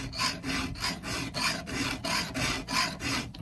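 Steady back-and-forth strokes of a file sharpening the badly damaged chain of a Husqvarna 395XP chainsaw, about a dozen even rasping passes in quick rhythm, close and moderately loud with no talking.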